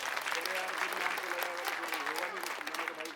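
A crowd at an Aam Aadmi Party public rally in Nangloi Jat, Delhi, applauds for party workers, a dense, continuous wash of clapping with crowd voices and a raised voice mixed in.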